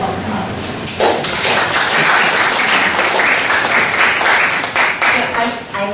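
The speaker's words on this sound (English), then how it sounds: "let's welcome her with a big round of applause" An audience at a talk breaks into dense, loud applause, many hands clapping together in a sustained wash that swells and holds, with voices mixed in.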